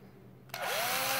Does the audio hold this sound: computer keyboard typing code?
no